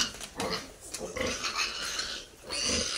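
Fourteen-day-old piglets on a hog farm grunt and squeal in a busy pen, with a steady cluster of close animal noise through the whole stretch.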